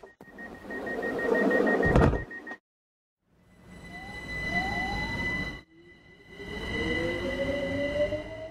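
A train pulls into a platform on a mountain transit line, with rumbling wheels, a brief silent cut and rising whining tones as it slows, heard close with no voices.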